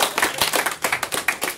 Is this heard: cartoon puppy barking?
no